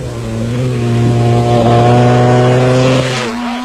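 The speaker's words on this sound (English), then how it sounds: "Errol Dalton also had the throttle wide open and had enough energy left to pop a huge wheelie" An off-road racing motorcycle at the 1991 Mmabatho Sun Off Road Race in South Africa, held at wide open throttle, gives a loud, steady buzzing engine drone up close for several seconds before it drops off at the end.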